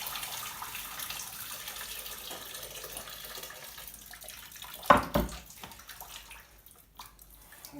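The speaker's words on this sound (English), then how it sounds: "So okay, so we drain the rice, that should be done now" Water from cooked rice pours out of a saucepan into a sink, a soft steady splashing rush that swells into a brief louder gush and splatter, then fades.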